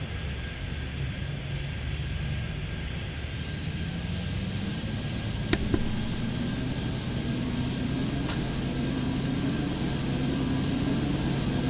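A fixed-wing airliner takes off in the Airport Madness 3D video game: a loud, steady engine roar with a whine that climbs in pitch as it accelerates, plus a couple of faint clicks.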